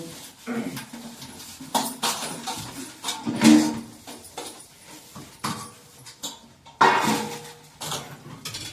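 Dishes, pots and utensils being washed in a home kitchen: scattered clinks, clatters and knocks of metal and crockery at irregular intervals, with splashing and scraping between them, close by and with no talking.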